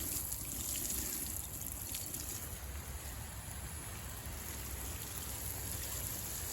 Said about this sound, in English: I have the water on, and I'm just going to water this in